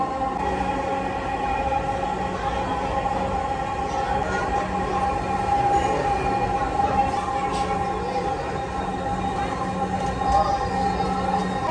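A Dhaka Metro Rail train runs between Uttara and Agargaon stations, a steady loud rumble and hum of the carriage with a constant tonal whine, sustained throughout from inside the car.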